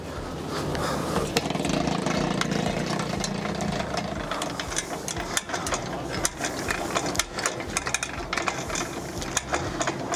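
Winch on a Cub Camper Frontier camper trailer ratcheting, a loud, close run of rapid mechanical clicks from the pawl continuing throughout.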